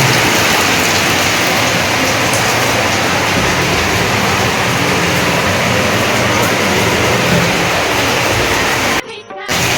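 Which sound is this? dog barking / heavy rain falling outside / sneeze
heavy rain falling outside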